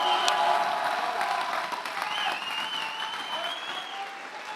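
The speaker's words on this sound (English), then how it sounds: "let's start by giving both these fighters a massive round of applause" Loud, sustained crowd applause and cheering fills a live combat sports arena after a rematch fight at the TFP 4 event, slowly easing off over several seconds, with tonal voices or sound faintly mixed in.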